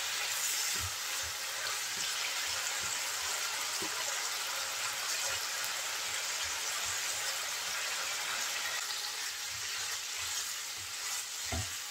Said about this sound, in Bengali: ভালো করে নেড়ে চেড়ে আলু করলা কষিয়ে নেব।